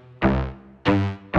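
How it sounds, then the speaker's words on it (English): A one-shot synth sample processed with OTT multiband compression, Valhalla reverb and RC20 distortion: three loud, rich tonal hits, each swelling and fading into a short reverb tail, with no talking. "with a little bit of OTT, Valhalla, and RC20 for a little bit of distortion, it sounds like this"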